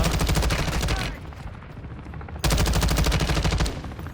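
Rapid automatic gunfire from Call of Duty Modern Warfare DMZ rattles in two loud, close bursts of about a second each, separated by a quieter gap of game ambience.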